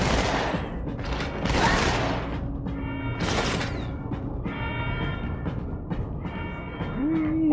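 Rapid bursts of video-game gunfire in a shooter, loud and repeated in dense volleys with short gaps, alongside booming impacts and a brief electronic whine near the end.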